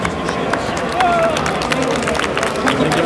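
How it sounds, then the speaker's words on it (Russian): Applause and crowd noise from a live game show audience during a Just Dance 2018 quiz at the Igromir 2017 gaming expo: a steady, dense wash of clapping and cheering that fills the whole stretch. "Аплодисменты."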